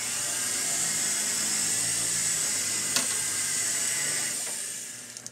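A rotary tool fitted with a cup burr rounds the prongs of a ring, giving a steady, high-pitched whine that runs for about five seconds. A couple of faint clicks come through before it winds down at the end.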